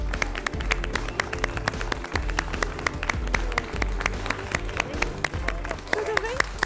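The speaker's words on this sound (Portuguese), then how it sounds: "Por favor, aplausos para Vico Tangola." Studio audience applauding a chef being welcomed onto a Christmas special of a televised cooking competition, dense clapping with sharp individual claps standing out over a low murmur.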